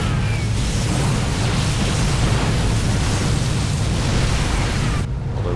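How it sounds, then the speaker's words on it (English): Cannons fire and strike rocks in a strategy video game while a wall is being built, heard as a dense, continuous rumble of booming impacts, loud and steady with no talking. "Cannons hitting the rocks trying to make the wall."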